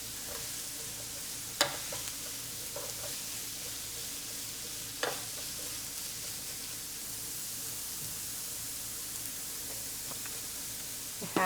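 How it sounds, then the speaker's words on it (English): Cremini mushrooms and chopped broccoli sizzle steadily in a hot frying pan, a close, even hiss of frying broken by a few light clicks from stirring, with no talk. "now I'm adding some chopped up broccoli"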